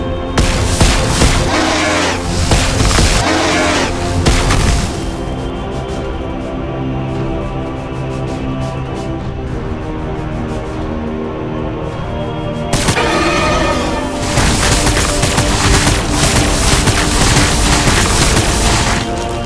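A Necron annihilation barge in Warhammer 40,000: Battlesector fires in a continuous, loud volley of booming energy blasts, dense and sustained, with a brief dip in the middle before the barrage resumes at full strength.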